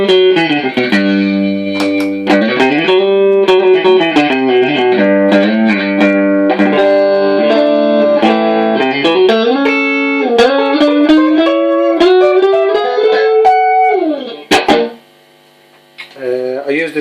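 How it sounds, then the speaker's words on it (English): Electric guitar run through an Electro-Harmonix Soul Food overdrive pedal used as a transparent booster, playing a steady, full melodic line of sustained notes and chords at close range, breaking off near the end before a few quiet notes. "that's running into the Electro-Harmonix Soul Food pedal"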